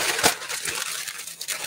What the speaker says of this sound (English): just crumple the tin foil around where you want it to go